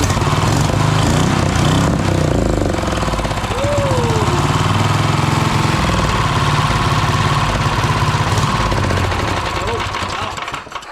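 A 420cc small engine fitted with a big turbo runs steadily, a loud, rough, rapid chugging beat with a throaty drone throughout, close by and fading slightly at the end; people talk nearby.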